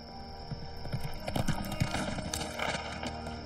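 Horse hooves clip-clop in an irregular, close rhythm of sharp knocks over a busy background of ringing tones and clatter, with no voices.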